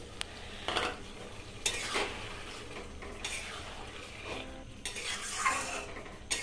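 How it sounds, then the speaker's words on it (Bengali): A spoon scrapes and stirs soaked cornflour through simmering gravy in a pan, giving irregular close strokes and knocks over a low bubbling background. "কর্নফ্লাওয়ারটাকে ভিজিয়ে রেখেছিলাম, সেটাকে গুলিয়ে আমি এর মধ্যে দিয়ে দিচ্ছি।"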